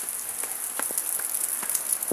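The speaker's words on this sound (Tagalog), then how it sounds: "Wala ako guys, lakas ang ulan guys" Rain falls in a constant close hiss, with scattered heavier drops pattering against a surface.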